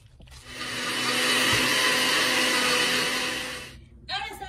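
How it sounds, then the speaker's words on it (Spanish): Blender whirring steadily for about three seconds as it purees chiles for ceviche, loud and close with a smooth rise and fade, then brief clatter after it stops. "Licuamos los chiles."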